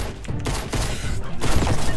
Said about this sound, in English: You're shooting me before I've touched the ground.